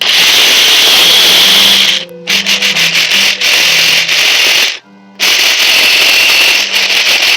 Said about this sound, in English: Now we're going to proceed to cover it and blend.